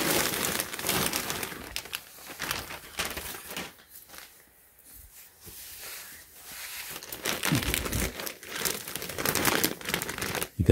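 Crinkly plastic packaging being torn open and crumpled around a white Palace Skateboards Tri-Ripper hooded sweatshirt, loud and close, with a quieter pause midway before the rustling picks back up.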